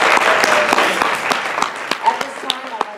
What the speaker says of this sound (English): Should we give our candidates all a round of applause?